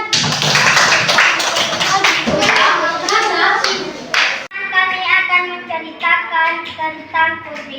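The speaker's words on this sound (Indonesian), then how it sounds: "Oke, beri tepuk tangan." Children clap their hands together in a classroom, a dense burst of sharp overlapping claps lasting several seconds before giving way to a voice talking.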